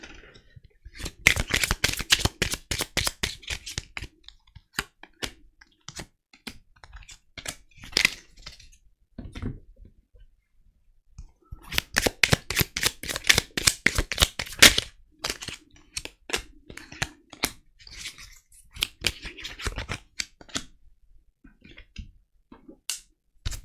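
Tarot cards being shuffled and dealt in two long bursts of rapid crisp flicks and snaps, with scattered single card slaps between, close and fairly loud, with no talking.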